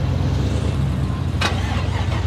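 A GMC pickup truck engine turning over and catching, a continuous low rumbling idle with a brief higher burst partway through, close and loud with no talking.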